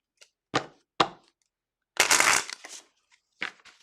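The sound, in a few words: shuffling tarot cards by hand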